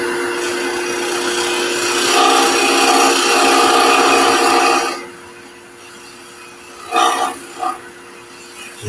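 A woodturning tool scrapes lightly across spinning wood on a lathe, making a loud continuous rasp over a motor whine for about five seconds, then the whine alone with two brief scraping touches.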